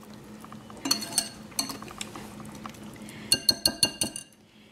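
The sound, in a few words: stirring yogurt raita with salt and pepper in a bowl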